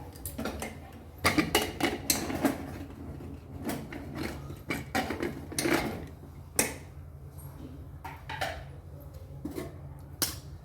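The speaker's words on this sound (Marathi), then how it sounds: "कुकर आपला थंड झालेला आहे तर आता झाकण आपण खोलूया" A cooled pressure cooker lid is twisted and lifted off in a home kitchen: a series of sharp metallic clanks, clicks and scrapes spread across about ten seconds, with quieter handling noises in between.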